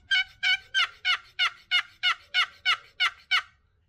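A custom wooden turkey box call worked by hand to mimic gobbling, giving eleven evenly spaced, loud, raspy yelps in a steady rhythm, close and alone with no talking.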